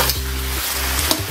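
Shrimp and squid with oyster sauce are stir-fried in a hot pan, a short burst of loud, close sizzling with a couple of sharp utensil clicks over a low burner hum.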